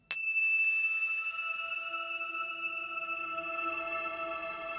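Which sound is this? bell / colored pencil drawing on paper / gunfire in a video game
bell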